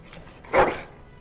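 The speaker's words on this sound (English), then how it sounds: "Bloody dog." A single dog bark in the Dragon Age: Origins video game, one short loud burst standing alone over a faint ambient background.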